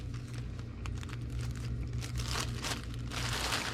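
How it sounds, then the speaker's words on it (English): A generic clear plastic shipping bag crinkles and rustles continuously as items from a multi-item order are packed into it, close and fairly loud with no talking. "We'll put this in a plastic bag."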